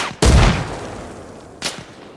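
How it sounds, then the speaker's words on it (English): Two grenades explode in the game Arma Reforger: one loud, close blast, then a second, fainter one just over a second later. "Trying to throw grenades at me."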